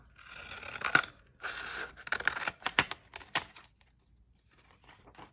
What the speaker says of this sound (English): So to cut the flowers, you can just take your pages and cut them in half.